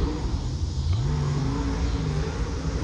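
A small pickup truck's engine accelerates while driving, a steady mid-level rumble with a rising rev partway through, heard from inside the cab with no talking.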